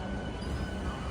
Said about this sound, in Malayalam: വന്ദേ ഭാരത് സ്ലീപ്പർ കടന്നു വരികയാണ്.